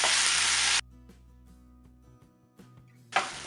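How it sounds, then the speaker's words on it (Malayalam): Chopped tomatoes sautéing with masala in a pan for a Malabar prawn biryani, giving a loud broadband sizzle that cuts off abruptly, leaves quiet stirring and clinks, then swells back into strong frying near the end. "ഇതിൻ്റെ കൂടെ ഞാൻ അരിഞ്ഞു വെച്ചിരിക്കുന്ന തക്കാളി കൂടി ചേർത്ത് കൊടുക്കുകയാണ്. ഇത് നന്നായിട്ട് വഴറ്റിയെടുക്കണം."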